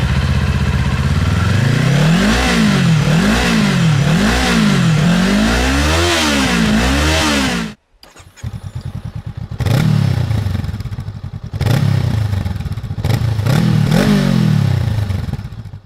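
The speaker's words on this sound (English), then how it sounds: "let's have a quick listen to the stock exhausts." Kawasaki Eliminator and Honda Rebel 500 cruiser motorcycles on stock exhausts, loud close engines idling and revving repeatedly in rising and falling sweeps, with a brief cutoff midway before a second bike revs in short bursts.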